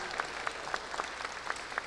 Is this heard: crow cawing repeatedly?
no